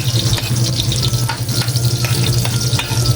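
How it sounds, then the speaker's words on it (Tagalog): Garlic sautés in a hot pan with a loud, close, continuous sizzle, broken by scraping and stirring as the pieces are turned. "Yan, ginigisa-gisa na muna natin."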